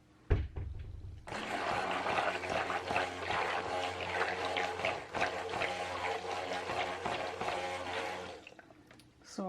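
Soap batter tinted blue poured out in a thick, continuous liquid stream that starts abruptly after a short knock and runs steadily for several seconds before tapering off, close and fairly loud, with no talking.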